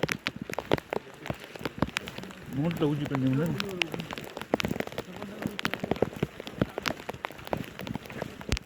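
Rain falls steadily on surfaces during a descent of Raigad fort, with dense close patter throughout and people talking over it.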